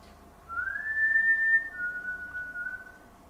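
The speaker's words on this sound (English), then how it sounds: "Sounds like a whistle." A sustained whistled tone rises at the start, then holds a steady pitch for about two and a half seconds before fading, heard faintly near the front door of an old shopping arcade.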